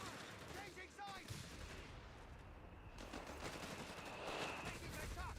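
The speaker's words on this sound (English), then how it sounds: "They're firing at us!" Gunfire in a war video game pops and crackles in scattered distant bursts beneath a busy battlefield wash of noise, fairly faint overall.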